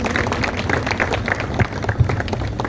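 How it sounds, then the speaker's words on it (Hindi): An audience at a flag-hoisting ceremony applauds, uneven crowd clapping with scattered louder claps, fairly close with no speech over it. "ताली बजाते आप लोग"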